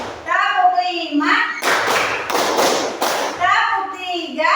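During a counting clap game in a classroom, a group of children claps in three quick back-to-back bursts, with their chanted counting heard before and after the claps.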